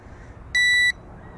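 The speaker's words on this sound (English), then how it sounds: "So you push the throttle forward and it beeps." An E58 drone gives one steady, bright electronic beep of about a third of a second when its throttle is pushed forward, close by and alone against faint background hiss.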